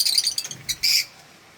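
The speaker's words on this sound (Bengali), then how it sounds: "সব পাখিগুলো দিব্যি খেলা করছে।" Caged lovebirds give a quick series of high, sharp chirps, close and fairly loud, ending in a brief final burst before falling quiet.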